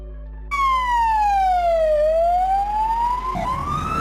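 A Greek ambulance, a Mercedes-Benz Sprinter, sounds its siren loud and close, one long tone sweeping slowly down and then back up over a rumbling engine.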